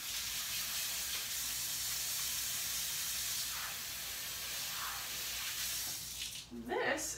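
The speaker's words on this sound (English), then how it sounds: "I'm going to wash my hands really quick." Tap water runs steadily as hands are washed, a broad hissing rush filling most of the clip before it stops near the end, with a brief voice afterward.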